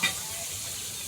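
Fish sizzle in hot oil while cooking outdoors, a steady close frying hiss through the whole moment, after a short sharp sound at the start.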